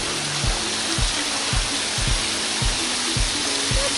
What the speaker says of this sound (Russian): маленький водопадик